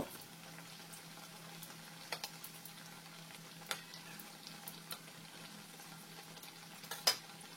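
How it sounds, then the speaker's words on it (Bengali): Potato and flattened rice snacks fry in hot white oil, giving a soft, steady sizzle with occasional small pops and crackles. The sound is faint and close. "দেখো এবার ভেজে নেবো সাদা তেলে"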